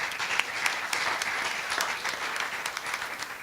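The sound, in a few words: audience applause for a firefighter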